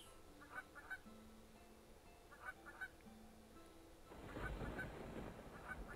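Cartoonish duck honks from the Hot Air Raccoon video game, Endless Migration, sound in short bursts over a steady synth tone, with a busier, louder stretch of game sounds near the end.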